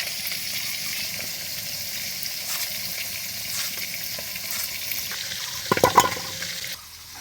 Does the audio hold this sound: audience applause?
no